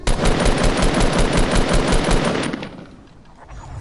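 Rapid automatic gunfire from the video game Fortnite, a dense loud burst of repeated shots for about two and a half seconds that then drops off into quieter game background.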